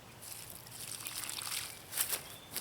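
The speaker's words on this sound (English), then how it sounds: "Now I'm going to put some water at the ground holes of these." Water trickles and splashes onto the ground holes around an electric fence set up to guard a chicken feed bin outdoors, a faint, uneven dribble with a few louder splashes near the end.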